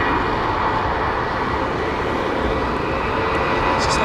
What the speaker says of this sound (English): Lovely Etihad 787-10.